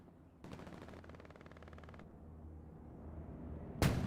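A machine gun fired from the hip in a video game rattles off one rapid burst of about a second and a half, followed by quieter game ambience and a sharp final crack.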